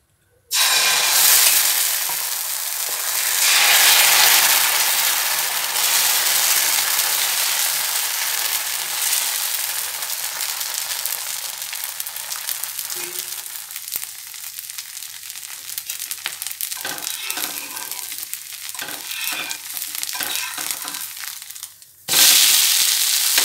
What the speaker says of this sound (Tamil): நம்ம இப்போ தோசை ஊற்றலாம்.